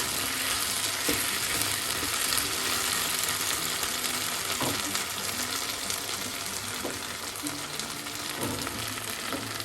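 Okra and potato stir-fry sizzling steadily in a pan on low flame, a continuous close frying hiss with a few faint clinks of stirring spaced through it, no voices.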